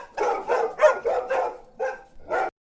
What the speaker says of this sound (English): The damn dogs are barking.